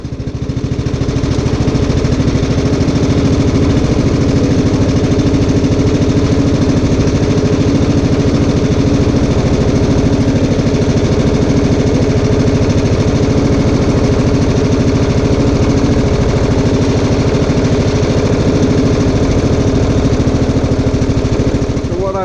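A Weedeater riding lawn mower engine runs close and loud, a continuous, even rumbling drone that stays steady from start to finish with no pauses.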